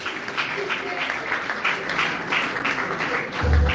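Audience applause welcoming an artist onto the stage at the Bazui Nzonzing comedy awards ceremony, a steady wash of clapping that swells slightly near the end with a low thump.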